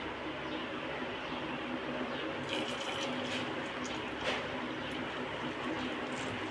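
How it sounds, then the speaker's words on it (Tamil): Jaggery dissolved in water poured into a cooking pot for Chettinad-style thiruvathirai kali, a steady close splashing trickle of liquid running alone throughout. "இப்போ அந்த வெள்ளத்தை ஊற்றிடலாம்."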